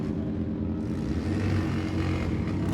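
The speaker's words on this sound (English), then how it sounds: "we got a fast bagger race right now. Side by side we go." Fast bagger motorcycles race side by side down a drag strip, producing a steady, droning engine roar at moderate distance that holds without a break, with no voices.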